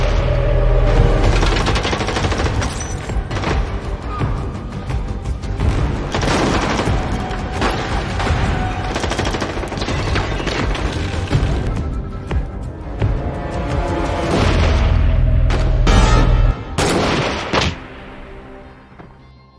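Rapid bursts of gunfire and heavy booms fill a gunfight in an action film, dense and loud throughout under a driving soundtrack, with no talking.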